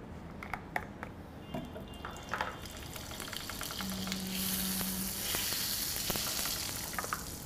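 Butter and oil sizzle in a pan on the stove with a steady crackle and hiss, close and moderately loud, dotted with small pops and a brief tonal hum midway, and no talking.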